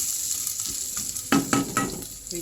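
Vegetables for lumpia frying in a pan, a steady close sizzle with a few sharper stirring scrapes partway through.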